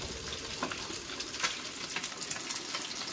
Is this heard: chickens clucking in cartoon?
no